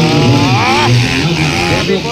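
A 250cc expert-class racing motorcycle goes out of control during a final at a T'nalak festival race, its engine screaming in rising and falling pitch sweeps, loud and close, amid a commentator's voice.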